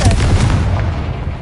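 A Confringo blasting spell is cast in Hogwarts Legacy, setting off a loud, booming burst of fiery impact that fills the moment with dense rumbling noise and fades slightly toward the end.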